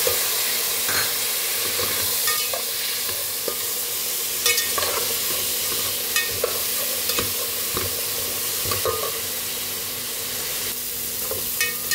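Chopped tomato fries in a pan of dalia (broken wheat) preparation, a constant loud sizzle overlaid with the scrape and tap of a spatula as it is stirred.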